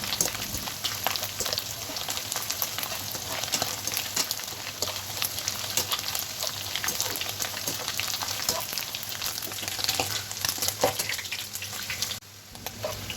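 Dried mola fish fries in hot oil with a dense, continuous crackling sizzle that stays loud and close throughout, easing slightly near the end.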